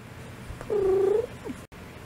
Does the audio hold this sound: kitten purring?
yes